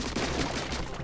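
Weapon fire from a Splatoon 2 video game rattles in a rapid burst of repeated shots striking crates, dense and loud across the whole moment.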